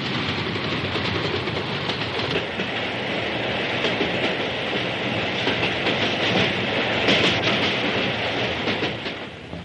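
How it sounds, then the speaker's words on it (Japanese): A Tokaido Main Line train entering the Tanna Tunnel rumbles steadily along with a dense, continuous roar of wheels and rails, holding close and loud throughout, with faint rhythmic clatter. "列車は丹那トンネルに入ります。"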